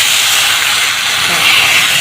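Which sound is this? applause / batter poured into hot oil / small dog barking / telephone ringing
batter poured into hot oil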